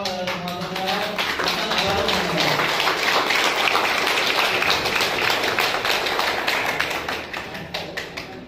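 Audience at a Buddhist vihara renovation inauguration ceremony clapping loudly and steadily for the whole stretch, with a voice briefly heard at the start before the applause takes over and slowly thins near the end.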